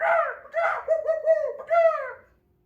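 A child imitates a bird with a voice, making a series of short, high, cooing and chirping calls in quick bursts, close and fairly loud, with brief pauses between them.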